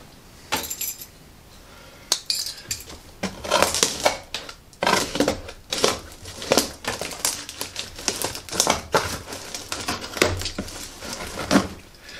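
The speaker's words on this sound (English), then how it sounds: "Let's unbox it." Rustling, crinkling and clattering from a DIY bow fender kit being unboxed, a busy run of irregular packaging crackles and handling knocks, fairly close and with no talk.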